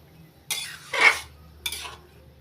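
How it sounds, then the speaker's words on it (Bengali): Banana flower being stirred in a pot of hot water, with a few short scraping and clattering bursts of spoon against pot, close and fairly quiet, separated by pauses. "একটু নাড়াচাড়া করে নিচ্ছি।"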